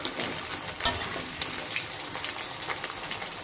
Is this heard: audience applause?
no